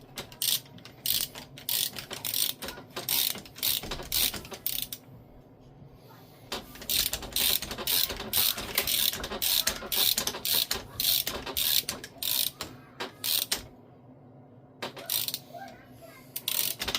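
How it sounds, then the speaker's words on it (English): A ratchet wrench loosens bolts on the rear drive shaft of a Jeep YJ, producing rapid close clicking in repeated bursts separated by brief pauses. "Ratchet was on loosen for 1 second."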